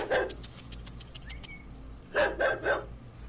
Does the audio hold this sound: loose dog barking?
yes